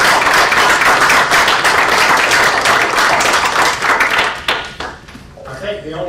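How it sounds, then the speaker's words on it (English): An audience claps loudly and steadily for two doctors at a leadership academy event, a dense wash of applause that thins and fades near the end as voices begin to emerge. "let's give Dr. Barker and Dr. Turner a big round of applause for this."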